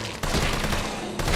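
A rapid burst of gunfire from a firearm in the zombie survival game Resident Evil 3, two loud shots or short volleys in quick succession, close and sharp, with no talking.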